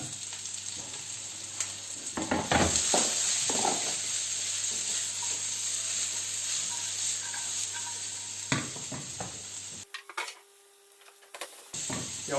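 Chopped onion sizzling as it hits a pan of lightly browned food for a chard tart, with a steady frying hiss, some stirring clatter and a brief drop in the sizzle near the end.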